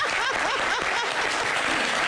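A studio audience on a French-language talk show claps in sustained, dense applause for a guest, loud and continuous, with a few brief vocal sounds mixed into the clapping.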